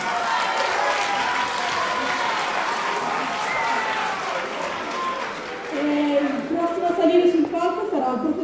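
Audience applause at a school Christmas show for class 4B, dense steady clapping filling the hall with a swell near the end, while a voice talks over it.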